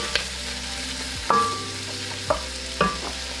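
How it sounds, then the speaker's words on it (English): Spices, onions and garlic sizzle steadily in a pot over medium-high heat, with a constant frying hiss broken by three or four sharp metallic clinks of a stirring utensil. "we're going to saute for about 2-3 minutes before we add next ingredients"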